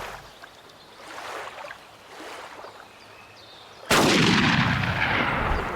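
A big-calibre hunting rifle fires in Hunting Unlimited 2010, one sudden loud blast that booms and rolls off slowly, following a stretch of quiet wind-like ambience.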